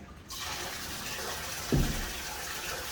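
Cold water diverted from a mill runs steadily into a distillery condenser, an even rushing pour at close range with a brief louder gush partway through.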